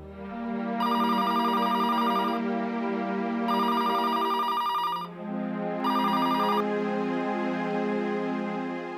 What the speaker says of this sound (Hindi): एक काम कर, तू पहला हेतल बेन ने फोन लगा।